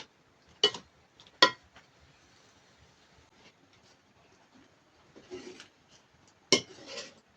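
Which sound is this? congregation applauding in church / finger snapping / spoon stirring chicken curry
spoon stirring chicken curry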